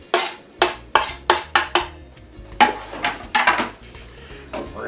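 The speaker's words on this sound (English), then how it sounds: "We're going to stir that around just so that the flavors come together" A spoon clanks against a metal pot while stirring drunken beans with tomatoes and cilantro, giving a series of bright, close scraping knocks in an uneven rhythm.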